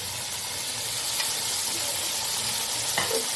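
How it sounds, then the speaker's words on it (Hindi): Peas for pulao roast in a pan with an even, moderate sizzle and soft stirring noises, plus a single sharper scrape or clink near the end, with no speech. "तो इस टाइम में मैं फ़िलहाल सिर्फ मटरों को भूनना चाहूँगी।"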